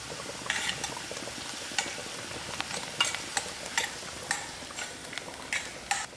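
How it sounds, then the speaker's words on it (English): Mustard seeds and cumin seeds frying in a hot pan, giving a run of sharp, scattered crackles and pops over a soft sizzle, close by with no talking. "I'm going to add in my mustard seed to fry and my jeera seeds to fry"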